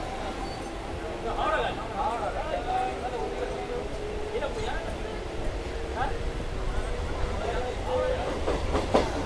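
A Howrah–Digha local train pulls out of Andul station, a steady rumble and rattle of rail cars carrying on throughout, with voices talking over it and brief squeals.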